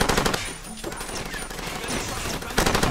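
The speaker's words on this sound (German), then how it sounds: "Ach, komm, hör auf, da auf mich zu schießen" Enemy gunfire in the video game Far Cry 2: rapid automatic bursts crackle densely through most of the clip, loud and continuous, with a brief lull near the middle.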